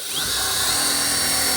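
A power drill whirs loudly and steadily at close range, driving screws into a simple wooden DIY shelf in one continuous run.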